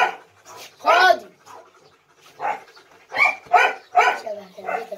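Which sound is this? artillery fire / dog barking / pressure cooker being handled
dog barking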